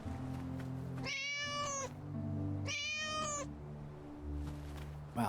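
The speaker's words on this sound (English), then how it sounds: "that little cat is loud" A small cat meows loudly twice in close succession, each cry drawn out and bright, over a steady low hum in an indoor room.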